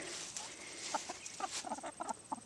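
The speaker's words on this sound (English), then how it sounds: "So as you can see, I got my 3 chickens over here." Three backyard hens cluck in short, scattered bursts near a coop by a fence, the calls moderately close and fairly soft over a steady outdoor background hiss.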